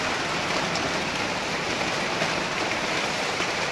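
Steady rain falling outside during an April shower, a dense continuous hiss of drops on surfaces, loud and close with no other sounds.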